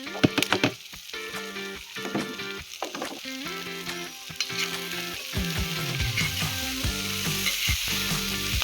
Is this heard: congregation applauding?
no